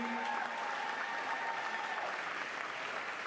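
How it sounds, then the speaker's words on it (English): Audience applause at the Runway of Dreams fashion show, a steady wash of many hands clapping that stays even and fairly distant throughout, with a faint tone running beneath it. "Let's give them all a big round of applause."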